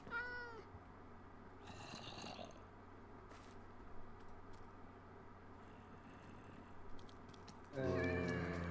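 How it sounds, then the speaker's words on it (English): Minecraft cats meowing in a game world, a few short high mews scattered over a quiet ambient background, with one near the start, one around two seconds and a louder one at the end. "I've heard the meows."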